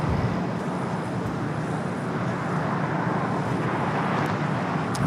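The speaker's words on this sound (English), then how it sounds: "Japan Airlines Flight 61 heading to Tokyo Narita. 787-9 Dreamliner up next for takeoff here on the south." Japan Airlines Boeing 787-9 Dreamliner taking off at LAX, a steady broadband jet engine roar heard from a distance, constant and fairly loud throughout with no voices.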